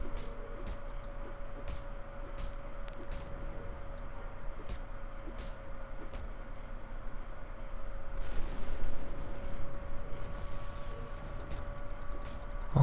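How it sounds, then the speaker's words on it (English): Explosions and gunfire in the Star Wars Galaxies video game: a string of sharp, evenly spaced distant blasts over a steady background hum, louder bursts clustering near the end. "All kinds of explosions."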